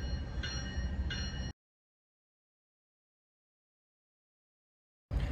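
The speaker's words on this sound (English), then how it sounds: "Here comes a train" A train passing by during a walk, a loud, close, steady rumble with a metallic tonal whine that cuts off abruptly into silence and then returns at the end.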